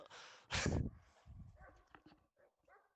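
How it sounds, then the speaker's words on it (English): Several dogs dashing through woodland, with loud bursts of crunching, rustling dry leaves and scattered footfalls that fade into lighter crackles nearby. "my dogs ran into the woods and all the leaves were rustling"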